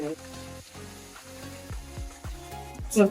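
Ground masala and whole spices including cinnamon, cloves, cardamom and Kashmiri chilli sizzle in a frying pan for an egg curry, a steady close crackling hiss with bursts of louder spitting and a sharp flare near the end.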